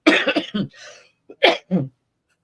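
A short burst of harsh coughs, close and fairly loud, followed by a pause and two more coughs.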